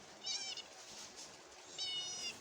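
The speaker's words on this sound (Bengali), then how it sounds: "এই বিড়াল বাচ্চাগুলো" Three kittens meow in two short bursts, one near the start and one near the end, on a sari laid out indoors during a rainy spell. A soft background hiss fills the gaps.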